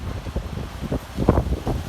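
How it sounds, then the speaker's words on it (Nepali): Strong storm wind in Chitwan gusts in uneven surges, roaring close to the microphone with broadband rushing and buffeting peaks, and no voices. "हावाहुरी ठुलो आएर हैन विध्वंस भइरहेछ"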